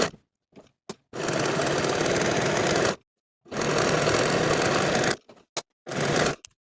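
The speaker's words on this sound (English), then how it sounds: "I'm going to take both of these pieces to my serger and finish the shoulder edges, as well as the inner curved edges." A serger overlocks the edges of shirt facing pieces in short and long bursts, a dense, rapid mechanical whirr broken by silences and brief stitches, close and fairly loud.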